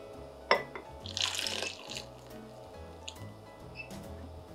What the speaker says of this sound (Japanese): 先ほど温めてもらったアーモンドミルク注いでいきます